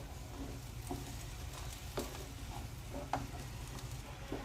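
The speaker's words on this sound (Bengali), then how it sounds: "এবার শুধু ভালো করে ভেজে নেব" Chicken frying with broccoli, tomato and green chillies in a kadai, a steady soft sizzle with occasional stirring scrapes and taps, no voices.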